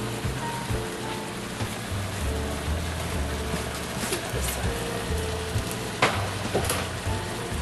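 Chopped onions and garlic fry in a pan, giving a steady, close sizzling crackle with scattered pops and faint background sounds throughout.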